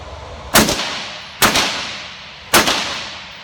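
Three loud, sharp gunshots from a short-barrel firearm fired at targets, spaced about a second apart, each a sudden crack with a brief echoing decay.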